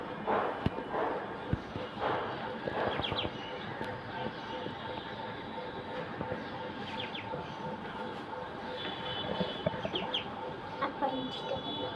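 Domestic ducks and chickens in a yard give repeated clucks and quacking calls at close range, mixed with scattered faint background voices and outdoor clatter throughout.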